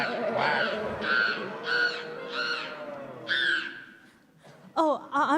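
Children in a Christmas pageant imitate duck quacking with their voices, a series of five loud, nasal quack calls at an even pace, with a faint murmur beneath and a couple of sharper, higher calls at the end.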